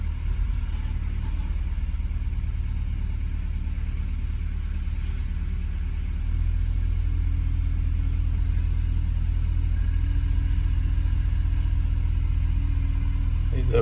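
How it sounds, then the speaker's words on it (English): A skid loader clearing out brush gives a steady, loud low engine rumble close by, its drone deepening and swelling slightly about halfway through as the machine works. "Here comes my uncle on the skid loader."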